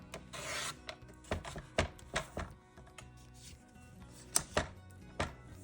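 Paper trimmer slicing cardstock for a handmade slider card, a series of short crisp swipes and clicks at irregular intervals, close and fairly quiet, with no talk.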